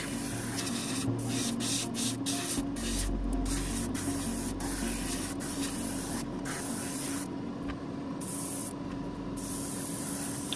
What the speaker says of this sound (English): we're going to spray some modeling matte black